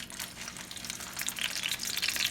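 A veggie patty frying in hot olive oil in a pan, a steady soft sizzle and crackle close up, faint and continuous with no talking.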